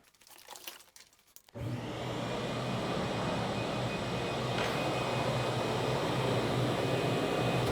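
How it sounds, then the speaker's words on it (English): A vacuum connected to a homemade slotted workshop table starts after a brief rustle and clatter, then runs as a steady, loud, close whooshing drone with a faint whine. "this table I built I connect it to a vacuum."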